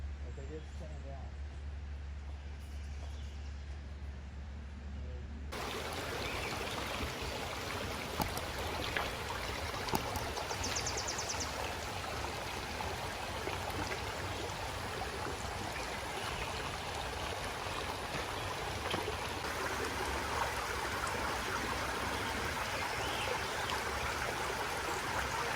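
Steady, continuous rushing water of the Green River in Washington fills the whole clip, a dense broadband wash over gravel, constant in level after a quieter start.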